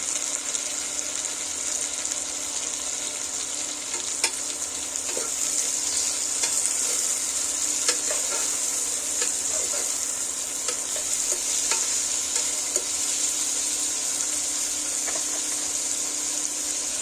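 Tomatoes frying in a pot of mutton curry give a steady, close sizzle throughout, with occasional scrapes and clicks of stirring breaking through the hiss.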